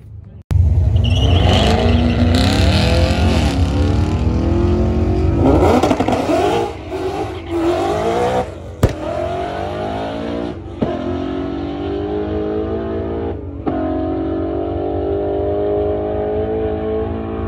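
A Nissan GT-R accelerates hard through the gears on a ride-along, a loud continuous engine roar from inside the car with rising pitch sweeps and brief shift breaks, a voice audible faintly beneath.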